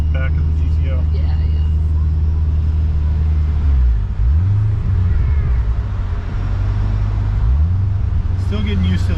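A supercharged Pontiac GTO with a manual clutch drives along with a loud, steady engine drone that dips and swells as it shifts through gears. Voices talk over the engine noise.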